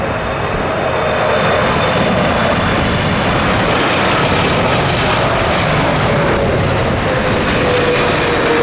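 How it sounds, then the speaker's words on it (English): A Boeing 777-300 airliner in Star Alliance paint lands at Narita, its engines roaring steadily and loudly close by for the whole stretch, with no talk over the sound. "Looks like another 777 here, and not sure on the airline."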